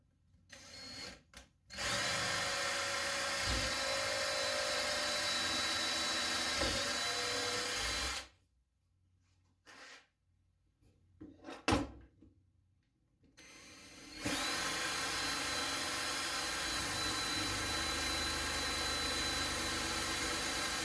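A power drill drives fasteners through a wooden spacer on a dovetail and mortise-tenon jig in two long, loud, steady whirring runs, separated by a pause with brief bursts and handling noise.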